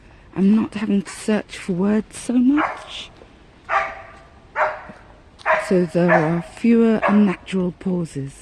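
A dog barks and yips excitedly at a squirrel in the trees, in short sharp bursts heard beneath a person talking steadily nearby.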